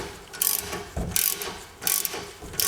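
Adjuster on King 3.0 shocks on a Ford Raptor turned by hand, giving close ratcheting clicks in repeated bursts of several turns with short gaps between.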